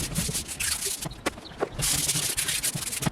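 Plastic interior truck panels from a Silverado being sanded by hand, a steady scratchy rubbing with a few short pauses, close and fairly loud, with no voices.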